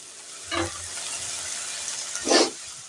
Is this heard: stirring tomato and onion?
yes